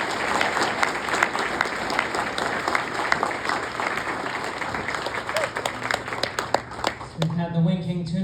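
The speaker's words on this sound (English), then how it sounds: "One more round of applause for David." An audience at an alumni awards ceremony breaks into sustained applause, dense clapping close and steady for several seconds before it thins out and a speaker's voice takes over at the end.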